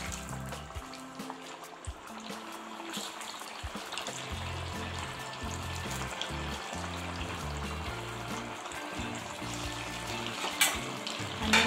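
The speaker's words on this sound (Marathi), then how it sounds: "आणि आता हे सगळे वडे तेलात तळून घ्यायचे आहेत।" Sabudana vadas deep-frying in hot oil over a medium flame: a continuous soft sizzle and crackle of bubbling oil, quiet and close, with no talking.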